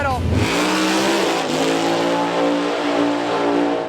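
Mud trucks running with no exhaust roar loudly in an enclosed arena, engines snarling and revving in a rising harsh drone that holds near and strong throughout.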